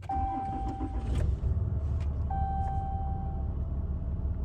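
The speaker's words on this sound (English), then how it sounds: "So the truck starts and runs great" A Cummins diesel truck engine cranks and fires up after tuning, a close, loud rumble with chimes and beeps from the dash, settling into a steady idle.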